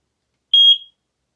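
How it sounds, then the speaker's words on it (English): A single short high-pitched beep from a Eufy E340 dual-camera spotlight security camera when its sync button is pressed, clean and close in otherwise silent surroundings. "Press the sync button until you hear the beep"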